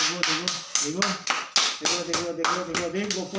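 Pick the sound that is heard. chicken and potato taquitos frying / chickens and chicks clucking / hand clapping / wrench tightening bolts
hand clapping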